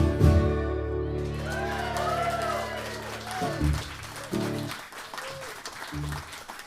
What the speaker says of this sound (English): Great clapping.